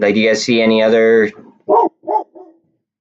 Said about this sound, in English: So sorry about the dogs.